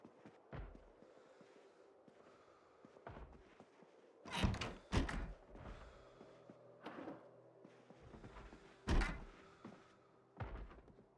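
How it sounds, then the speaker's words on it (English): A zombie in a survival game bangs on a door, a series of irregular heavy thuds and slams, some doubled in quick succession, spaced a few seconds apart against a quiet background. "Just gonna let him bang on the door for, you know, till he's tired or he forgets."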